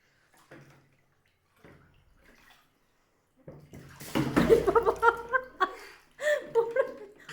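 Water poured from a mug over a seated child during a bath, splashing in uneven bursts after a quiet start, with a child's giggles and chuckles and brief adult voices around it.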